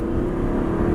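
A car engine pulling hard under acceleration as power is applied out of a U-turn, a loud close steady rumbling drone held for the full second.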